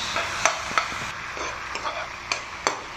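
Tomatoes are mashed in a pan of simmering sauce for sarciadong isda lapu-lapu, with a soft background sizzle broken by several sharp utensil taps and scrapes spaced unevenly.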